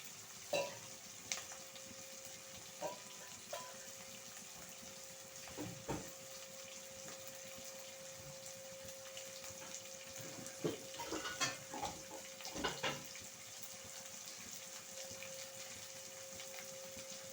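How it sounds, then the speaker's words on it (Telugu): Ingredients for Bombay chutney fry quietly in a pan, a soft, steady sizzle with a low hum underneath and scattered clinks and scrapes of stirring, faint and close with no speech. "కొంచెం వేగనిద్దాము"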